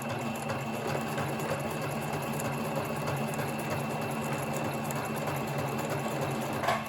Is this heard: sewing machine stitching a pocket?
yes